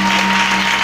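A church congregation claps in praise of the Lord, producing a dense, continuous roar of applause that stays loud and close and never breaks.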